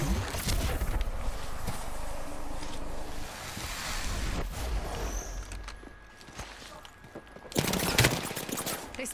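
Video game gunfire crackles in bursts amid a roaring, wind-like background, with a loud heavy barrage near the end.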